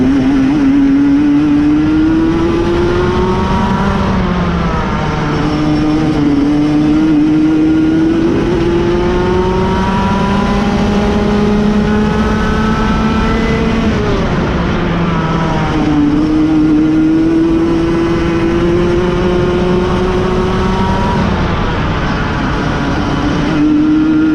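Go-kart engines droning loudly through a practice session, a continuous high buzzing whine that rises and falls in pitch as the karts accelerate and ease off through corners, close and dominant with no talking.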